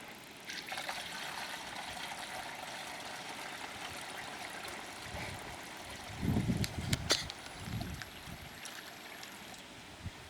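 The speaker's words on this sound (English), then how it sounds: "now we're just dumping our water into the drip kit" Water is dumped into a five-gallon bucket drip irrigation kit, making a steady rushing pour with louder splashing bursts midway, outdoors at moderate distance.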